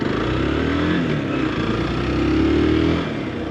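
A motorcycle ridden outdoors in wind, filmed on a GoPro 9 with Media Mod, gives a constant close engine drone mixed with heavy wind rush, steady throughout with slight swells.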